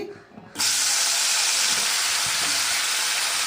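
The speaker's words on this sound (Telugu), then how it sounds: "ఇలా కలుపుతూ ఫ్రై చేసుకోవాలి ఇలా మధ్య మధ్యలో కలుపుతూ ఫ్రై చేసుకోవాలండి" Brinjal pieces for a tamarind curry fry in a pan while being stirred, and a loud, steady sizzle bursts in after a quiet start and holds at full strength.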